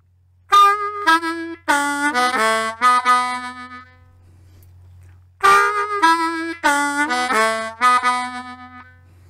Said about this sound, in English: The first 3-draw half step to the 1 draw,